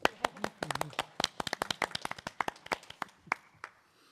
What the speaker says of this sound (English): We're going to clap again.